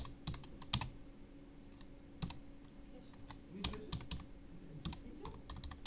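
Keys on a computer keyboard click in short, irregular bursts, near and fairly quiet, over a faint steady hum with no voices.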